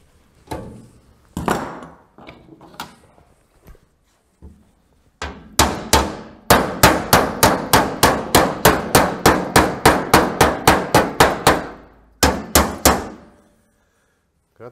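A hammer strikes a metal bracket while it is bent in a college workshop. A few scattered knocks come first, then a long, steady run of loud, ringing blows about two per second, followed by a short final pair.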